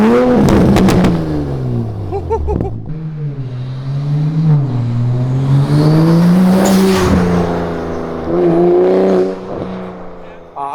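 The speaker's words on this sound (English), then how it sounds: "the throatiness and the the deep tone of the catted downpipe" A 2020+ B58 MK5 Supra with HKS blow-off valve and catted downpipe revs up and down with a deep, throaty exhaust tone, loud and close, rising and falling in pitch over several seconds.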